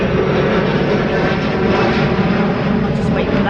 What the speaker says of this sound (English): it's a plane going over.